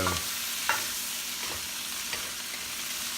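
Fish fries in a pan with a steady, dense hiss of oil, broken by a few soft scrapes as it is stirred, close and constant throughout.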